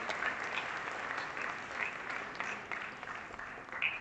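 Sustained applause from an event audience welcoming a speaker, a dense steady patter of many hands clapping throughout, moderately loud with no talk over it.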